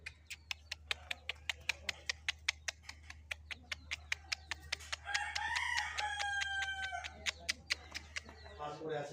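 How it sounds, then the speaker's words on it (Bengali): A pure white rooster crows one long clear call at close range, preceded by a steady run of sharp rhythmic ticking clicks and a low constant hum underneath. "সাদা একটা রাওয়া মুরগি ভিডিও করছি"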